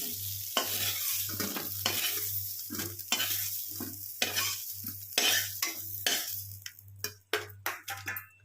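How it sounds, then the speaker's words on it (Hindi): Soya chunks fry in a kadhai until golden brown, giving a steady close sizzle broken by repeated scraping and clattering stirs, with a low constant hum underneath. "इनको गोल्डन ब्राउन होने तक फ्राई करेंगे अच्छे से"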